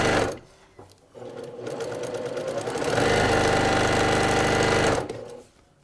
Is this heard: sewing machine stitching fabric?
yes